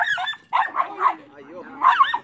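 A small black dog barks and yips at a pit bull in short bursts, close by, with a brief whimpering tone between the barks.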